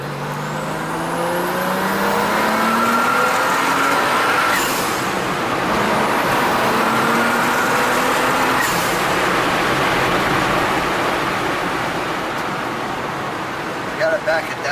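A 1991 BMW 325i convertible with a Garrett turbo and water-methanol injection accelerates on boost, its engine note rising steadily through the gears with a climbing whine, loud and continuous from inside the car.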